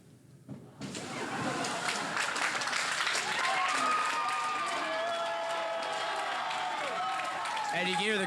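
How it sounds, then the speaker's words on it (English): A crowd applauds and cheers after a dive at a boys' and girls' high school swim meet held indoors at a pool. The clapping swells quickly and stays sustained, with raised voices and whoops mixed in. "And you can hear the crowd's reaction to that one."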